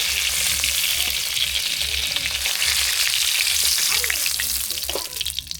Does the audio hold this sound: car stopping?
no